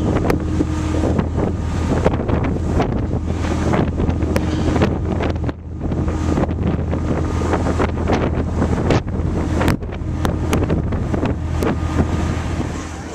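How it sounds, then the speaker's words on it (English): Strong wind buffets the microphone with loud, gusting rumbles aboard a ferry in Scotland, over the low drone of an engine and rushing water. "Quite windy."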